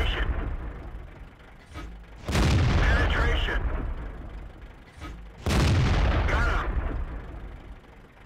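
Tank guns fire in a World of Tanks clan war on the Murovanka map, two heavy booming blasts several seconds apart, each with a long rumbling tail over constant mechanical engine noise, with a voice commentating throughout.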